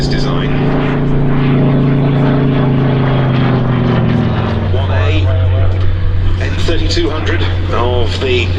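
A Curtiss Model 75 propeller fighter flies at the Duxford 2022 airshow. Its loud piston engine drones with a shifting pitch as it passes, and a voice can be heard over the engine noise.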